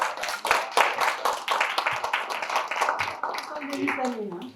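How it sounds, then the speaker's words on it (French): Audience clapping breaks out at an evening community event celebrating Black History, dense handclaps spread across the room, mixed with voices and chatter, before the applause thins as a speaker's voice rises near the end. "Je vous demande d'applaudir."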